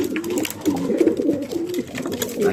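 Racing pigeons coo in a loft, soft repeated throaty calls close by, overlapping in a steady murmur with no talk.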